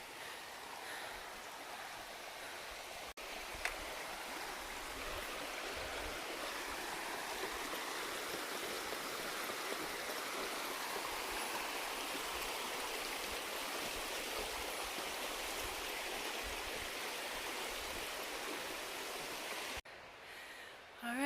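The Big Carp River flows beneath a bridge in the Porcupine Mountains, giving a steady, broad rushing wash of water that holds constant and fairly soft throughout.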